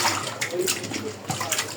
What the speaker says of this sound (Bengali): মাছগুলোকে ভালোভাবে ধুবো।